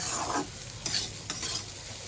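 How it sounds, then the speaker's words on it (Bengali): Fried rice in a pan sizzles softly with a few stirring scrapes and a brief splash-like burst as water goes in, fairly faint and close with no talking. "এবার আমি জল দিয়ে দেব।"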